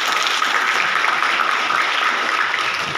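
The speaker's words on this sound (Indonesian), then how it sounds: "Aplaus dulu buat kita semua." Audience applause at an anti-drug counselling and training seminar in Riau, a dense, steady clapping from a crowd that stays loud and even for the whole three seconds, with no talk over it.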